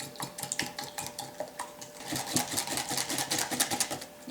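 A utensil scrapes and clinks against a bowl while almond milk is stirred into blueberry muffin batter, a close, busy series of rhythmic taps and scrapes with no voice.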